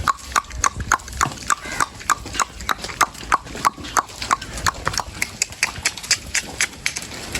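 Steady clip-clop of horse hooves, a regular rhythm of sharp hoof strikes close by, with no talking.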